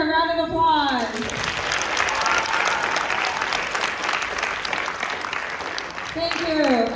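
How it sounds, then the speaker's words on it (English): An audience in a school theatre applauds the stage crew of a stage play with sustained, dense clapping lasting several seconds, framed by brief talk at the start and end. "please give them a round of applause."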